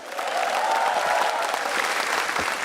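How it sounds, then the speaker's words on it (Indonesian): Audience applause for comedian Arif Brata at a stand-up comedy show, a dense, steady wash of clapping that swells in quickly and holds loud for a few seconds without talk. "Sekali lagi tepuk tangan buat Arif Brata"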